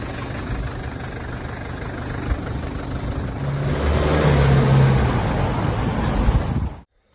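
A Mitsubishi Pajero's engine runs steadily nearby, a low idling rumble that swells slightly louder midway before cutting off abruptly near the end.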